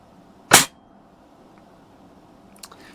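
A Daisy 120 pellet rifle fires one sharp, close crack at a target, followed after a quiet pause by a faint, brief tick of impact.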